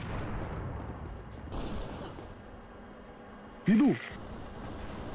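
A thrown grenade going off in an online demolition-match video game, a muffled low rumbling blast about midway through, followed a moment later by a player's short shout.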